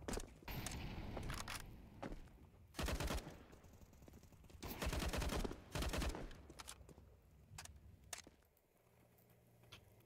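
Gunfire in Counter-Strike 2 on the Mirage map: several sharp bursts and rapid rifle volleys crack out at intervals, with scattered single shots and footsteps between them, quiet overall.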